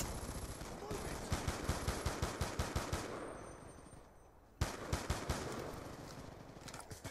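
Rapid repeated gunshots from a single-shot gun in a video game, sharp regular cracks in a fast run, a brief lull, then another burst, with game sounds behind.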